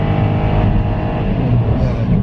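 A Kia Morning small city car's engine revs hard up to about 6,200 RPM, a steady, rising mechanical drone heard from inside the cabin, loud and continuous over the short span with no clear talking.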